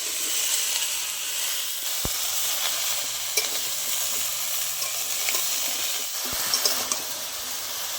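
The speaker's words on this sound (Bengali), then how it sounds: "আগে আমি একটু ভেজে নেবো ভালো করে" Ridge gourd and potatoes frying in a pan, a steady moderate sizzle with occasional spatula scrapes and stirring clicks, no talking.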